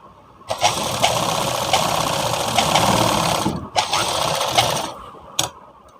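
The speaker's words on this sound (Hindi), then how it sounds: "इस तरह से पीस को सिलाई करके निकाल लेंगे" A sewing machine stitching a Sabyasachi-style blouse piece runs loud and close in a steady whirring buzz, pausing briefly twice before short final bursts.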